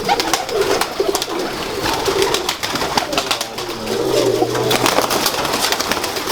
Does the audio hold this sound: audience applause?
no